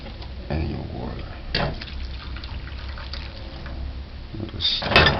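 Water poured into a pot of sugar on a stove while making Jamaican bulla buns, a soft trickling and splashing pour with a few louder bursts, close by and fairly quiet.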